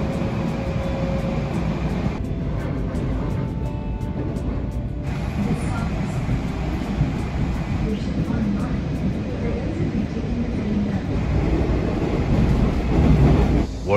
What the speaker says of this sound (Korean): 지하철 타고 한 방에 광운대역까지 갑니다.